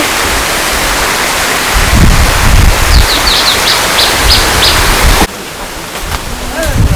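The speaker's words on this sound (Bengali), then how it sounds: "বৃষ্টি নেমে গেছে ভাই" Rain falls steadily outdoors during a village cooking gathering, a dense broadband hiss that holds for most of the clip, briefly drops, then swells again, with faint voices talking underneath.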